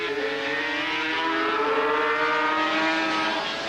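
1984 500cc Grand Prix racing motorcycles scream out of a corner on the circuit, high-revving engines rising and overlapping in a loud, sustained wail that holds steady across the whole stretch with no talk.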